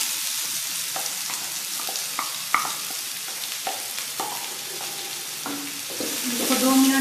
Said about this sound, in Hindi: इसको 2 मिनट तक फ्राई करेंगे जब तक ब्राउन नहीं हो जाता है।